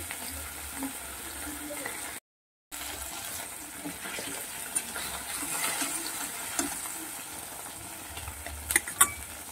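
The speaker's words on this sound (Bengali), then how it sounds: "সব মাছগুলোকে ভেজে তুলে নিলাম" Chanda (pomfret) fish frying in oil, a steady soft sizzle with faint crackles and pops throughout, and a brief dropout partway through.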